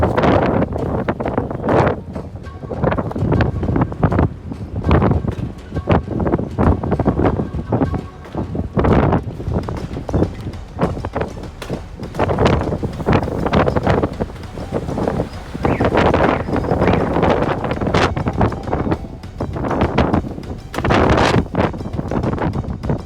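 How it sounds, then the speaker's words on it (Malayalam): Strong wind buffets the microphone in loud, continuous gusts, roaring unevenly throughout with faint voices underneath. "ഗംഭീര കാറ്റ്"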